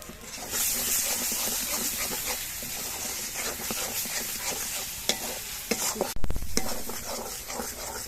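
Spice paste sautéed with a little oil and salt in a pan for a pomfret fish curry, heard as a steady close sizzle with rhythmic scraping stirs and a few sharp clacks of a spoon on the pan near the end.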